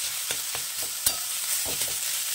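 Ground bottle gourd leaves with salt and green chilli fry steadily in a pan, giving a continuous close sizzle broken by several soft scrapes and taps of stirring.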